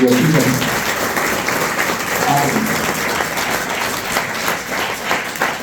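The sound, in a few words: audience clapping for Mohan Reddy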